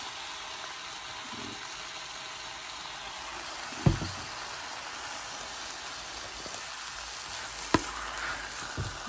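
Beef spaghetti sauce sizzles quietly in a pan as a soft, steady frying hiss, broken by two sharp clinks of a utensil against the pan, and no one speaks.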